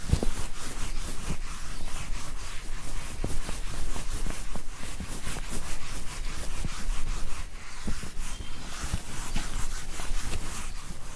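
Steady dense rubbing of a chalkboard eraser across a lecture-hall blackboard, continuous strokes for about eleven seconds with brief pauses, fairly loud and without talk.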